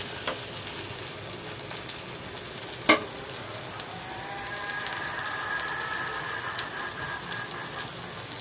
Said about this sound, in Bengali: এবারে আমি একটু মরিচ পেঁয়াজগুলো হালকাভাবে ভেজে নেব।